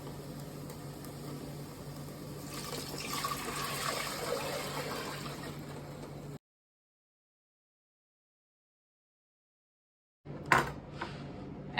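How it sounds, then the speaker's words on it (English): Water runs steadily for several seconds as about 8 cups are poured into a cooking pot for lentil stew, a broad rushing splash, then cuts to silence before a couple of brief clanks. "I'm going to add 8 cups of water."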